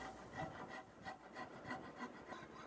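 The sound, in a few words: round file filing wood by hand on guitar comfort carve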